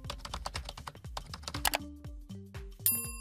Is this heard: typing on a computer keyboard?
yes